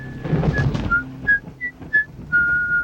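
A person whistles a short tune in clear, separate notes, near and alone, with a little low rustle under the first notes.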